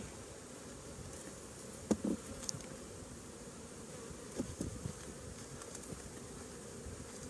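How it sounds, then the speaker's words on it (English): Faint bee buzzing during a beehive inspection, over a low steady background rumble, with a couple of brief soft knocks. "I think I just got a bee inside my bonnet"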